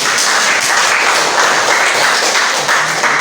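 A classroom of students applauds together, a steady, even patter of many hands clapping at moderate loudness that carries on throughout with no talking over it.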